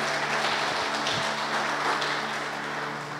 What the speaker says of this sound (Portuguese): Aplauda Ele mais uma vez, glória a Deus, Pai.